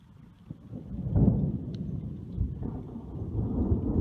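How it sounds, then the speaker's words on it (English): Thunder rumbles during a lightning storm in the Carolina low country, a deep rolling boom that swells, fades and swells again, fairly near and loud, with faint rain in the background. "It's not at all stupid being out here in a lightning storm."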